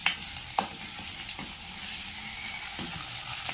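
Onions sizzle and fry in a pan with turmeric and garlic, a steady hiss punctuated by several sharp scraping stirs of a utensil against the pan, close and moderately loud with no talking.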